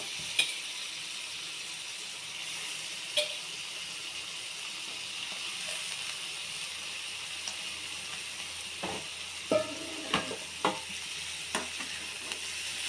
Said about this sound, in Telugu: బోటి వేసుకుందాం ఇప్పుడు.